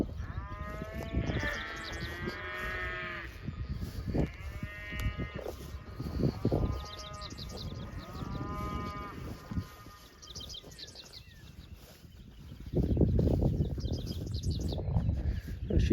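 Cattle moo repeatedly outdoors, a cow with her young heifer calf on a windy grass pasture; several drawn-out lowing calls come one after another at moderate distance over steady wind noise, with a bleat-like higher call mixed in.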